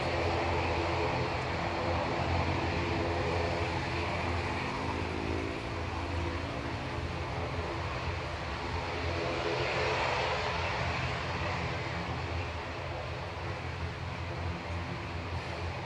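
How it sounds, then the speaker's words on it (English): A Boeing 737-800 departs from a Manchester Airport runway, its engines a broad, steady roar heard from a distance, sustained throughout with no talk. "737-800 TAWM departing, 11 years old."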